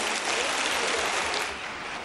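Audience applause at a Benin convention signing ceremony, a steady broadband patter of clapping lasting throughout, moderately distant and even in level with no voices over it.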